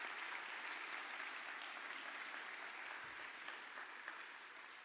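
Steady, even applause from a large audience at the ISCAS 2015 awards ceremony for the award finalists, a soft, distant wash of clapping that holds throughout and slowly fades slightly toward the end.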